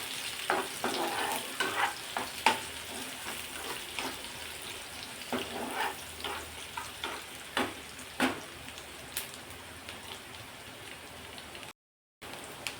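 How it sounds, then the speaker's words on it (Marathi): Finely chopped onion sautéing in oil in a pan, a steady soft sizzle under repeated scraping stir strokes, close and moderately loud, with a brief dropout near the end. "कांदा मस्त या तेलावरती परतून घ्यायचा आहे आपल्याला"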